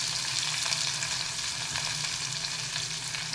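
Ridge gourd pieces fry in hot oil in a pan, giving a steady, close sizzle with a dense crackling hiss that holds evenly throughout.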